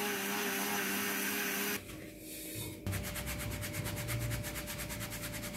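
A grinding machine mills dried turmeric into powder with a loud, steady mechanical whine. It briefly drops to a duller drone, then returns with a fast pulsing rattle, heard up close with no talking.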